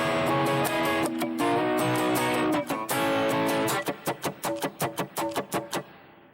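Electric guitar playing the second round of a song's solo: sustained, bent lead notes over a ringing backing, breaking into a run of sharp repeated picked stabs toward the end, loud and alone.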